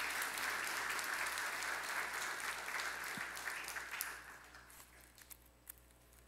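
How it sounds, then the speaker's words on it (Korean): A church congregation gives a round of congratulatory applause for a newly confirmed member during a Sunday service, dense clapping that fills the room and then thins out and fades over the last couple of seconds. "축하의 박수를 한번 쳐주시기 바랍니다"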